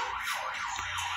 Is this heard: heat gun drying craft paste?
no